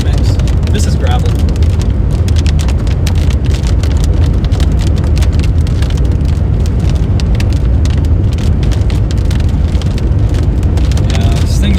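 A car rolling over a Nebraska gravel road while chasing a storm, with a constant loud crunch and rattle of stones under the tyres and a dense crackling texture throughout.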